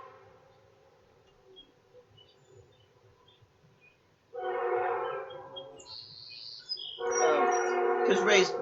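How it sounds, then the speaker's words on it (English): A train rumbles past in the background during an outdoor gardening chat, with loud sustained bursts of passing rail noise and a horn-like tone near the end. "can you hear the train in the background?"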